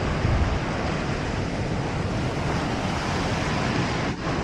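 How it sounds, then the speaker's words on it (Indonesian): Steady roar of wind and surf at Pantai Drini, a south-coast beach in Gunung Kidul, Indonesia, loud and continuous, with breeze buffeting the microphone and no voices. "Angin sepoi-sepoi khas pantai selatan bikin suasana makin adem"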